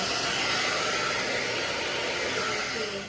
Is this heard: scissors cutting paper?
no